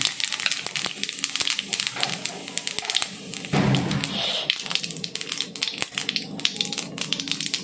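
Whole cumin, cardamom pods and cinnamon pieces temper in hot oil, giving quiet, scattered crackles and pops over a soft sizzle, with a brief fuller burst of frying midway.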